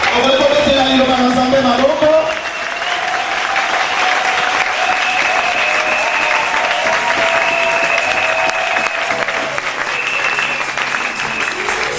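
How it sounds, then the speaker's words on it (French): A church congregation applauds and cheers loudly and steadily for about twelve seconds, a dense wash of clapping with voices rising within it. "Est-ce qu'on peut acclamer la parole du Seigneur?"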